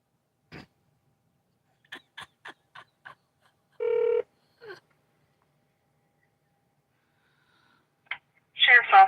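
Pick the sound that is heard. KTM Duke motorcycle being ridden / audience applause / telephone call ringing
telephone call ringing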